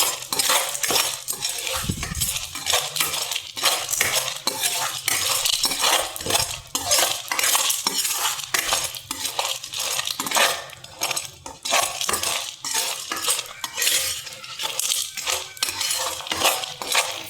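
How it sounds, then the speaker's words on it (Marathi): A spoon repeatedly scrapes and clinks in a pan as edible gum roasts in ghee, giving steady metallic stirring taps and a soft background frying hiss, close and continuous with no speech. "अगदी डिंक छान फुलेपर्यंत भाजून घ्यायचं आहे आपल्याला."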